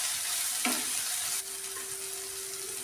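Onion and chopped tomato fry in a pan as they are stirred, a steady close hiss of sizzling oil with one brief scrape or clink partway through.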